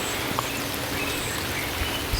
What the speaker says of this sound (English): And it's raining right now,